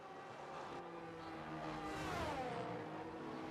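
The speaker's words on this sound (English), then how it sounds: "Revving it out in 7th gear down the hill." A race car in a racing simulator at Imola screams at high revs in seventh gear downhill, a steady, loud engine whine with a rising tone sweeping upward midway.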